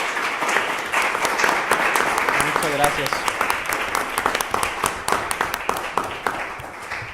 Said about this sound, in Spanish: les pido un aplauso para aquí nuestros expositores